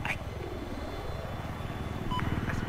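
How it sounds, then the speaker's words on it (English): An enemy helicopter in a competitive video game match whirs with a continuous rotor drone and engine hum. It sounds steady throughout and grows slightly louder near the end. "Enemy helicopter spotted. I got eyes on an enemy helicopter."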